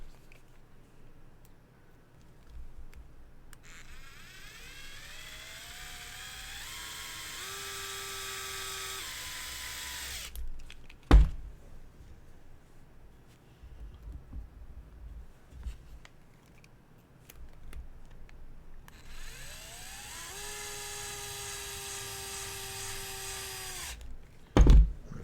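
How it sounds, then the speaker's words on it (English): An electric power driver whirs through two long runs, rising in pitch, as it screws together parts of a PR Racing SB401 Type-R 4WD buggy kit. Sharp clicks and knocks of handling parts fall between the runs. "If you are using a driver, try not to go too fast because it does generate heat."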